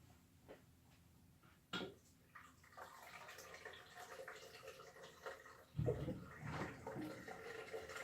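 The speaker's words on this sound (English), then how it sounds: "I have my 5-gallon jug here in my dispenser. It's a ceramic dispenser." Water gushes from a 5-gallon jug in a ceramic dispenser, starting with soft handling knocks and then a louder close splashing pour that continues to the end, with faint talk in the background.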